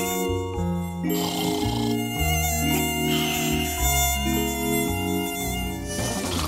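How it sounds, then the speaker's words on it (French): High whining mosquito-like buzzing drones steadily over layered tonal chimes and music, loud and continuous with shifting pitch for several seconds. "Est-ce que c'est un moustique?"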